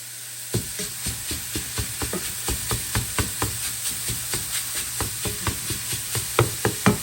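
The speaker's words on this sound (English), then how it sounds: "I'll just have some maple sausage that I'm going to cook up to go in our breakfast burritos" Maple sausage cooking in a pan for breakfast burritos, with a steady sizzle broken by a run of regular scraping stirs, close and fairly loud, with no talking.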